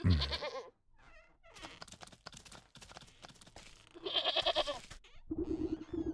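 Goat bleats from the video game Wytchwood come through in short wavering bursts, one at the start and more near the end, with game sounds and brief clatter between them and no talking.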